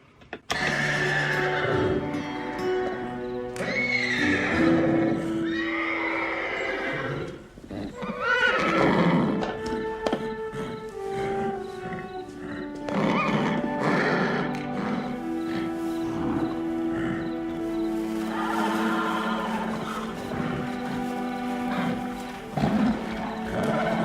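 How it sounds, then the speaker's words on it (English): A distressed mare, unable to move around, neighs and whinnies repeatedly in a Saddle Club television episode, with loud, shrill calls over continuous background music. "That horse is getting so distressed because she can't move around."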